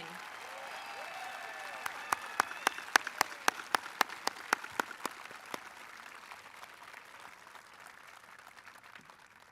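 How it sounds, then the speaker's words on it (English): Scattered applause from a small crowd at a graduation ceremony, with sharp individual claps standing out in an uneven rhythm before tapering off into faint room noise. "Let's applaud those graduating with honors from the class of 2018."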